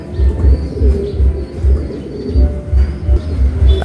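Racing pigeons cooing in a steady repeating rhythm, soft low coos close by, with faint chirps in the background.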